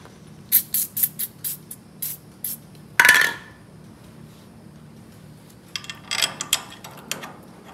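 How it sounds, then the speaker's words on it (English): Short bursts of aerosol penetrating lubricant are sprayed onto bolts on a VW Karmann Ghia chassis near the rear disc brakes: a rapid string of quick hisses, one longer spray, then a pause and another cluster of short sprays, all close up. "Let me lube these up with a little free all."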